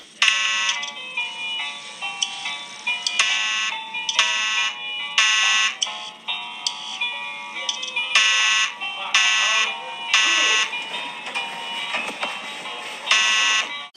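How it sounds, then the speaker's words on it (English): A fire alarm at a Chuck E. Cheese's blares in repeated loud harsh electronic bursts, pulsing on and off across the whole stretch, with brief gaps between. "I just pulled the fire alarm at Chuck E. Cheese's"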